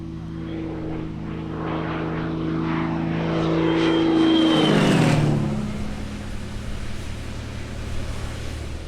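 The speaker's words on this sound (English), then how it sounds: "The racing saw multiple aircraft fly around a circular track and individual runs down a chicane" A Cap 231 propeller aerobatic plane races a chicane course at an airshow, its engine drone swelling as it nears, peaking with a sharp Doppler drop as it passes close, then fading into the distance.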